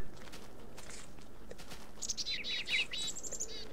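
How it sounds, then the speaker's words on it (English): Small birds in the Technic video game chirp in a quick, bright burst of several tweets near the end, after soft footstep-like shuffling over a steady ambient hum. "Goats, birds, why are they here?"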